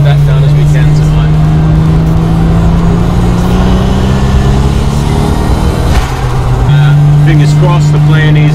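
A car on air suspension, being fitted with a 2J engine, cruises around close by with a loud, steady engine drone and a long sustained tone that dips briefly and then resumes.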